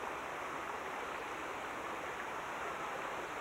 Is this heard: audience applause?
no